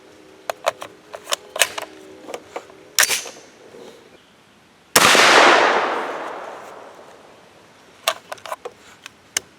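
One loud, close shot from a 300 Blackout rifle firing a 208gr Hornady Match BTHP handload with IMR 4198 powder, echoing as it fades, with sharp metallic clicks of gun handling before and after.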